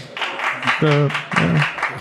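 Studio audience applause at a comedy podcast, a short burst of clapping mixed with voices talking over it throughout.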